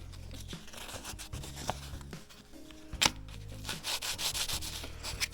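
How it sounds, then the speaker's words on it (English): A metal guitar neck plate being scuffed with abrasive, a close, faint scratchy rubbing in uneven strokes, with a sharper scrape partway through and brisker rasping toward the end. "We want to make sure we scuff that up the most."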